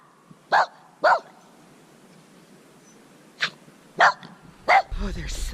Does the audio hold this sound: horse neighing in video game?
no